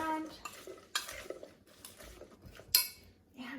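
Okra pieces tossed and mixed with seasoning salt and oil in a bowl for dehydrator snacks, giving a few separate clinks and rattling scrapes of utensil against dish, close and fairly quiet, with no talking.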